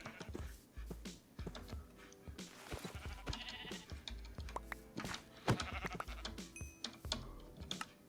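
Sheep bleat in a modded Minecraft game. The calls are short and repeat over busy keyboard typing and mouse clicks.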